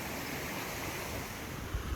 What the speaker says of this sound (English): I'm gonna drink water from this waterfall, basically